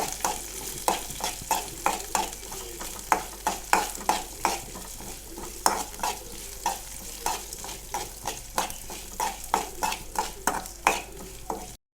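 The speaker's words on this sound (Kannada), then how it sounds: "ಫ್ರೈ ಆಗ್ತಾ ಇದೆ." Beetroot and mung dal fry in a pan for a palya, a steady sizzle under rhythmic scraping stirs that repeat about once a second, close and fairly loud, with no voices.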